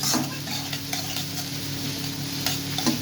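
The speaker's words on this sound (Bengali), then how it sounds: "এইদিকে পেঁয়াজটা নাড়ছি সেটা ঘুগনির জন্য হচ্ছে পেঁয়াজটা ভাজা হচ্ছে" Onions frying in a pan for ghugni give a steady close sizzle, with a few clinks and scrapes from stirring and no voices.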